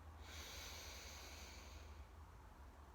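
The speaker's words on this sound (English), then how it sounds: "just breathing in" A long, deep inhale through the nose, a steady airy hiss that swells after a quick start and fades toward the end, faint and close with no talk.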